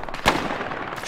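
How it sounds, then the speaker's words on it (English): A single sharp gunshot cracks out in a first-person shooter video game, one brief loud report with a short tail, alone. "Shot somewhere."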